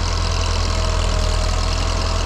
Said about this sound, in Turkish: Güçlü bir traktör.